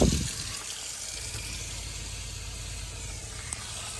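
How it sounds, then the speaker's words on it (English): Water runs steadily from a hot tap on a narrowboat while the onboard water pump hums along; a continuous hiss and flow with a low drone underneath, a brief sputter at the start, and no talking. "I can hear the water pump."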